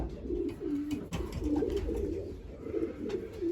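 Young racing pigeons coo close by in a loft, repeated soft low warbling calls overlapping one another, with light rustling in between.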